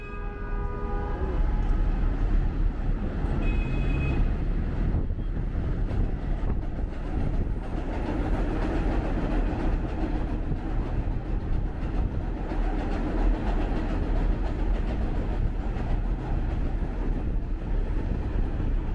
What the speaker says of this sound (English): the concrete viaduct significantly reduces train noise